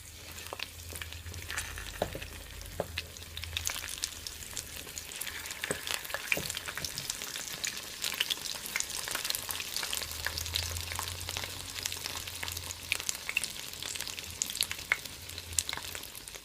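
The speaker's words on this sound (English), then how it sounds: "So you're just gonna fry for at least 3 minutes on each side." Ripe banana fritters, Jamaican style, frying in a pot of hot oil, producing a steady dense sizzle and crackle throughout, close and fairly quiet, with occasional faint utensil ticks and no voices.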